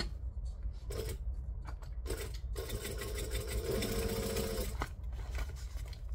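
A sewing machine stitches along the seam of a foam-lined craft tote, running in short bursts and then one longer steady whirring run. The machine is close and moderately loud, and no one talks over it.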